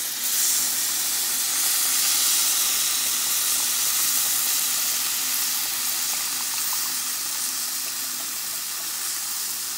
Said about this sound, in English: Immediately add your tomato puree.